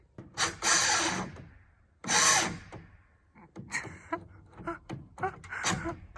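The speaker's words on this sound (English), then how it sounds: "finishing up fastening down with screws this end" A battery power drill drives screws to fasten down the end of a garage wall in an off-grid home build. Two loud, close whirring bursts are followed by softer clatter, with voices in between.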